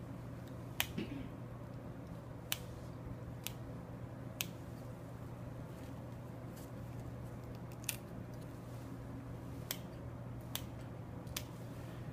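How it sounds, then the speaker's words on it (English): Sharp, isolated snips from scissors cutting through a specimen's gill arches and slits during a zoology lab dissection, spaced irregularly over a low steady room hum, faint and close. "scissors right into the gill arches, in through the gill slits."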